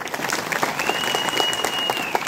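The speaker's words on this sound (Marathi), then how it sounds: "सगळ्यांना मनापासून एकदा सगळ्यांसाठी टाळ्या वाजवा" An audience at an outdoor political election rally claps in a dense, steady wave of applause, loud and continuous throughout, with a faint whistle-like tone running above it.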